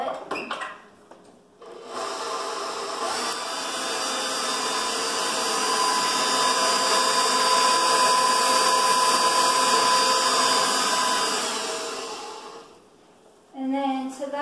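An electric mixer runs steadily for about ten seconds, whirring through cookie dough with melted butter, with brief handling noises before it starts and after it stops.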